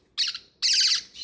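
Small pet parrotlet, a tame female pocket parrot, gives two bursts of bright, rapid chirping close by, the second longer and fuller, with no talk.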